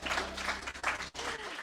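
A church congregation applauds during a Sunday service, a brief, fairly soft wash of clapping hands in a large room.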